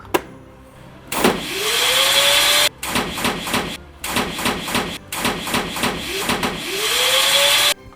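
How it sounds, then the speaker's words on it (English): A loud vacuum forming machine whirs in bursts, with a rising whine as it spins up, then rapid rhythmic pulsing and abrupt cutoffs, like a vacuum pump cycling. "I'm gonna vacuum form his knife."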